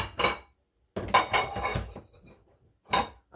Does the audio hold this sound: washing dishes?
yes